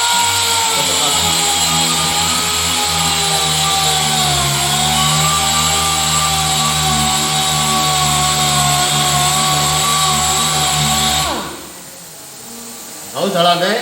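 A power sander grinds steadily over body filler on a car panel, a loud continuous buzzing whine that holds for about eleven seconds before winding down, then briefly restarts.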